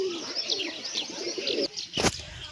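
Several pigeons coo close by in a steady, overlapping murmur, joined by a few higher bird chirps, with a brief loud broadband rustle, like wing flaps or handling noise, near the end.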